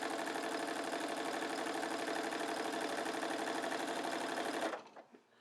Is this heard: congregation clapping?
no